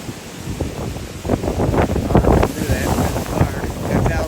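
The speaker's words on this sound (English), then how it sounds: "Still got a strong wind." Strong wind gusts roar and buffet close to the microphone during a hurricane, with steady rushing noise that swells after the first second.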